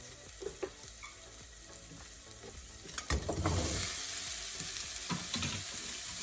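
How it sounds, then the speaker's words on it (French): Softened, lightly browned shallots and carrots are stirred together in a pot over low heat, giving scraping spoon strokes over a steady frying sizzle that swells louder midway and stays busy to the end. "On mélange ensemble."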